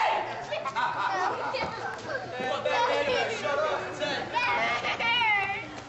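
A wrestling crowd at a pro wrestling show, loud overlapping chatter and shouted jeers, with several voices close and excited throughout.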